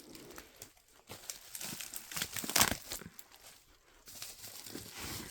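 Packing tape being torn and crinkled while opening a box of manga, heard as close, uneven rustling and crackling bursts that rise and fall over a few seconds.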